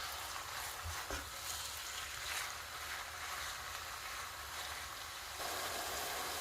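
Mutton roasts in a pan over a full flame for lasagna, giving a quiet, steady sizzle and crackle with occasional soft stirring bumps and no voices.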